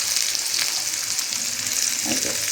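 Onions and bitter gourd fry in a little oil in a home kitchen, giving a steady, close hiss and sizzle with faint stirring scrapes, and no talk over it.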